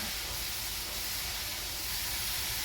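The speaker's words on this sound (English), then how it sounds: "I know y'all can hear it now. It's frying." A steady, loud sizzle of cabbage frying in a hot pan over a gas flame, a continuous close hiss with no voices.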